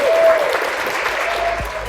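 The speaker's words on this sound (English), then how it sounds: "Can we please give her a round of applause?" Live audience applause at a downtown Burlington event, a steady dense wash of clapping filling the whole moment, fairly loud and close, with a brief low thump near the end.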